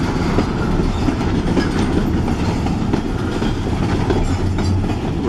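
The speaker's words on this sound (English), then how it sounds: "Let's see what's on the back side of the train." A long freight train of empty cars rolls past close by, a loud, steady rumble with rhythmic wheel clatter over the rails, continuous throughout with no voices.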